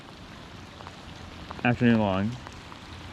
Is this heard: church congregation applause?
no